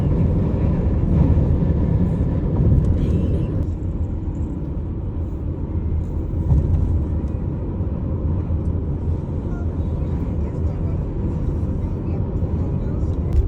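A car carrying passengers toward a hotel in Nagoya at dawn: a steady low road rumble and engine drone fills the cabin at even loudness throughout, with faint tire hiss and occasional soft bumps.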